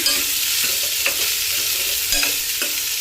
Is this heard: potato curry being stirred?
yes